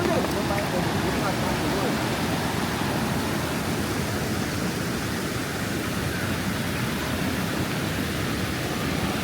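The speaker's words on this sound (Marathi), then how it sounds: "आता खरं पाणी आलंय इथे तर एकदम खतरनाकच पाणी आहे" Heavy floodwater rushes past in a loud, continuous broadband roar that stays steady with no pauses and drowns everything else.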